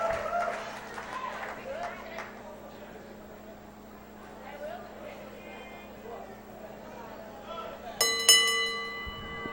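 A bell at a wrestling reunion event rings out near the end in a few sharp, loud strikes with a ringing tail, following a stretch of crowd murmur and general arena noise.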